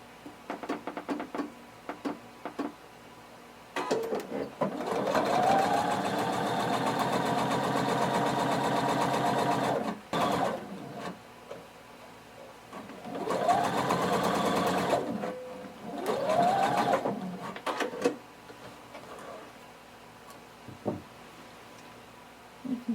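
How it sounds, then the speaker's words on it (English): A sewing machine stitching a pant leg seam with a 5/8 inch allowance, whirring in three loud bursts of several seconds each, separated by pauses with faint handling noises. "we're going to sew starting at the bottom using 5/8 of an inch seam allowance."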